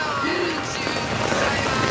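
Heavy rain pours steadily during a Hong Kong rainstorm, a dense, continuous hiss of drops striking surfaces close by, with no voices over it.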